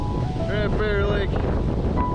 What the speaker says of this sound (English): It is getting windy, which is actually a blessing.